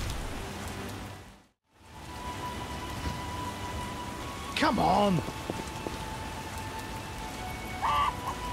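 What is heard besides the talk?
rain in video game The Witcher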